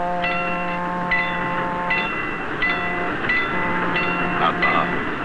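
A Union Pacific freight train rolls past in a steady, close rumble, with sustained tonal lines running through the rolling noise throughout.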